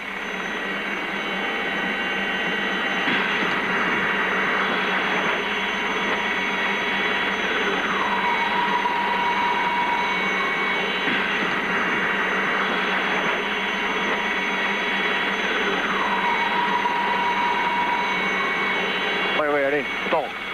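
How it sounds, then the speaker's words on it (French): A rescue helicopter hovers over Mont Blanc, its rotor and turbine making a loud, continuous drone that fills the whole stretch while people talk over it. "Fais gaffe, t'as l'autre hélico dessus."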